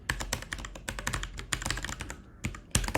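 Rapid typing on a computer keyboard, close and clear, with bursts of quick key clicks and brief pauses between them.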